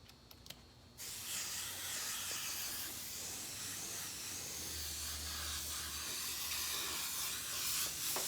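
An airbrush sprays paint onto a hoodie with a steady, close, continuous hiss that starts abruptly after a second of quiet and holds evenly to the end.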